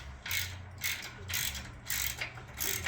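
A ratchet wrench loosens a bolt on an ALTA car roof rack while a Solo basket is being installed, with four crisp, close bursts of rapid clicking separated by short pauses.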